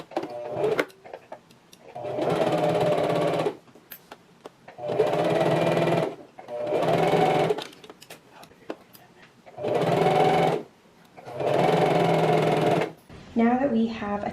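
A sewing machine stitches a dress bodice seam in five steady runs separated by short pauses, close and clear, with a person speaking briefly between the runs.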